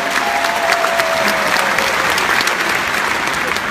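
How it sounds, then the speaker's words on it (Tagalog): Large crowd at an inspirational testimony event applauds for parents, loud sustained clapping filling the room with a faint tone briefly underneath. "At pwede palakpakan mong pinakamalakas na palakpak ang mga magulang mo."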